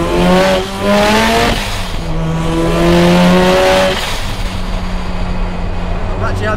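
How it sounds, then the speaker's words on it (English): A high-horsepower Mazda RX7 rotary engine on cold roads, loud and close from inside the car, revving up through the gears with rising and falling tones and brief shift dips, with speech faintly present. "We're out in the lovely Mazda RX7."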